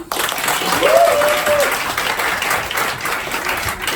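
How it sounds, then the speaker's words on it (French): An audience at an improv theatre show breaks into loud, steady applause that carries on evenly throughout, with a voice briefly rising over the clapping. "On l'applaudit."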